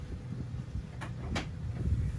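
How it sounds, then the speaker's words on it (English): Two quick soft clicks as the enclosure door on a 2020 Boston Whaler 380 Realm boat slides shut, faint over a low background hum. "Just close that door."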